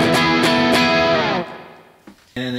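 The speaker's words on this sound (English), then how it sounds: "So here's the spring reverb." An electric guitar through a spring reverb pedal strikes a few chords that bloom into a splashy, metallic reverb tail, decaying before another chord rings out at the end.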